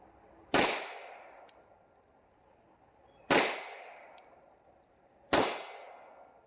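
Three loud pistol shots from a Rock Island STK 100 at an outdoor range, each a sharp crack with a ringing decay, spaced a few seconds apart.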